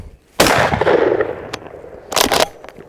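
A Rock Island Armory All Gen shotgun fires buckshot at an old oven outdoors, two loud close blasts with a ringing impact crack between them and a short echoing tail after each.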